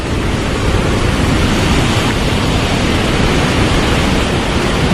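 Steady, loud rush of falling water fills the whole stretch, a dense roar without breaks and no voices.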